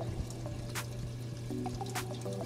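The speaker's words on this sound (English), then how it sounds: "So now it's pumping water." An ICECAP auto top-off pump running in a reef aquarium setup, giving a steady low hum with faint trickling water and a few brief splashy bursts, constant and close throughout.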